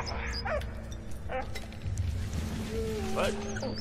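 A dog in the video game Valiant Hearts: The Great War gives several short barks and yips with a whimper, over low battlefield rumble and someone talking.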